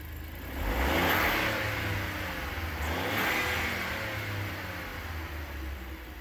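A Volkswagen Polo 1.0 TSI engine revs up twice with a steady mid-pitched drone, rising and easing back between pulls, close and loud with no voices.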